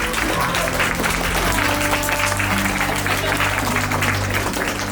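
Wedding guests at a Kerala Christian ceremony applaud steadily as the bride is welcomed onto the stage, a dense, continuous wash of clapping with a low hum of music or crowd underneath.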